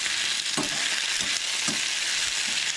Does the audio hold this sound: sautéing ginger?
yes